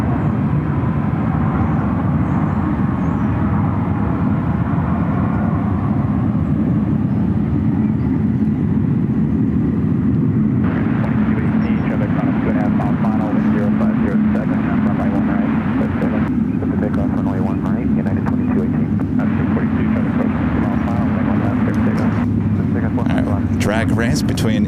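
Boeing 767 jet airliner arriving at SFO from JFK, a continuous loud engine rumble and roar throughout, with people talking over it.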